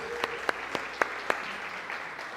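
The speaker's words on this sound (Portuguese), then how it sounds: "Vamos dar uma salva de palmas." Church congregation clapping during a seminary service, a modest rhythmic round of applause with several distinct sharp claps standing out over a soft steady background.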